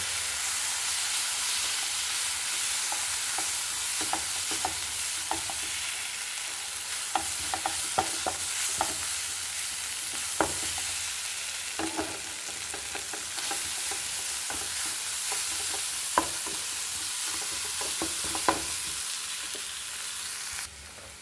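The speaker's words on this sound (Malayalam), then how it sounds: "കുരുമുളക് പൊടി ഇതൊക്കെ നമുക്ക് ഇതിലോട്ട് ഇട്ട് കൊടുക്കാം വെച്ചിട്ട് നല്ലോണം വഴറ്റാട്ടോ" Pepper powder, crushed fenugreek and spices sauté in hot oil in a pan for a sardine roast, a steady close sizzle and fry with stirring scrapes and small clinks throughout.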